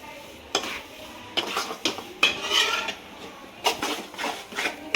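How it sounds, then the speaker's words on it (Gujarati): A spoon scrapes and knocks against a pan as flour roasts in ghee, giving irregular bursts of stirring clatter over a faint background hiss. "આ લોટ શેકતા મિનિમમ આપણે 5 મિનિટ સુધી આપણે લોટ શેકવો પડશે"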